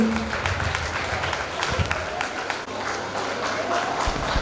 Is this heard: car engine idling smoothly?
no